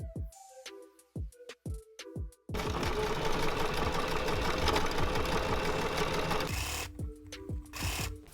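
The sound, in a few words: sewing machine stitching a shirt sleeve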